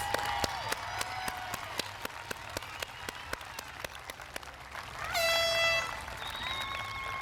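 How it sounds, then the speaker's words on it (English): An audience at a middle school graduation ceremony claps in sparse, distinct hand claps, moderately distant and faint, with a brief horn-like tone sounding near the end. "Please give them a round of applause."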